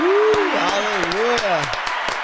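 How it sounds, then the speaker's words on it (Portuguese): Audience applause welcomes a guest pastor at a podcast table, a steady wash of clapping running under a voice that talks over it for the whole stretch. "Salve de palmas."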